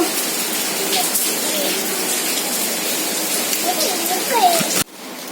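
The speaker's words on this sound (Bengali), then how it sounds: "প্রচণ্ড এদিকে বৃষ্টি হচ্ছে" Heavy rain pours down in a steady, loud, broad hiss, with faint voices beneath it. The roar drops away abruptly just before the end.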